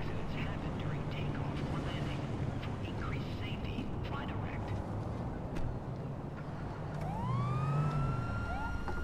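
A police siren in a video game wails in from a distance over a dense, noisy background, its rising and falling pitch sweeping up toward the end.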